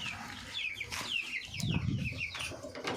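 Domestic chickens cluck inside a coop where chicks are kept, a low busy murmur of hens and fowl with brief higher chirps and a flutter, steady and fairly close.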